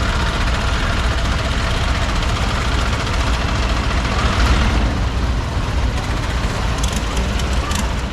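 A tour boat engine runs on a Bangkok canal, a loud, steady rumbling drone with broad wash noise from the water, continuous and close throughout.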